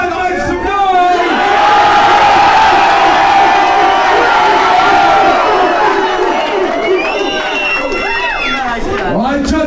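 A rap battle crowd roars and cheers, loud and sustained, with whoops and shouts rising over the din and a few voices calling out near the end.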